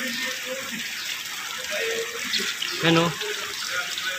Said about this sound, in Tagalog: Pumasok na yung tubig sa loob ng bahay nila